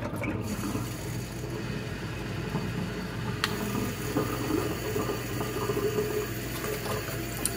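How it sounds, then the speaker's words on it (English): Water gurgles from a faucet in a home film-development setup, a steady mechanical churning and rattling flow with a sharp click partway through, loud and close. "And then you hear it gurgle."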